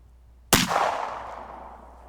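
A single loud .45 ACP hollow point pistol shot fired into a wall penetration test, a sharp close crack at half a second followed by a long ringing decay, with no talking.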